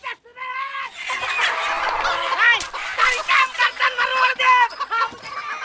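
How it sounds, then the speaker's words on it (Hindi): Chickens squawk and cluck loudly in a frantic, overlapping scuffle, close by, the agitated calls rising and falling for several seconds with a brief pause early on. "लो भाई, मुर्गी महाभारत फिर शुरू"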